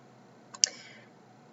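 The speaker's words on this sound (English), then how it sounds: "you can click Set Location." A single computer mouse click, sharp and close, with a faint lighter click just before it, set against a quiet room.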